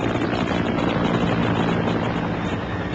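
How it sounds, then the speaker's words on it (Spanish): A helicopter lands, its rotor and engine giving a steady, loud, dense roar with no pauses. "Lo llevaron afuera, donde un helicóptero aterraba para transportarlo al hospital."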